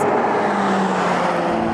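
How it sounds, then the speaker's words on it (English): McLaren 720S supercar engine droning steadily under load from inside the cabin as it pulls through its 7-speed gearbox, a continuous near, fairly loud hum with a rising tonal note and no talk. "Listen to that engine as it works its way through that 7-speed gearbox."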